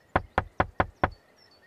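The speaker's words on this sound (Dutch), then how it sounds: "Tinky Winky klopte nog een keer op de deur." Five sharp knocks on a door in a children's animated show, evenly spaced and close, each a crisp thud with no talk over them.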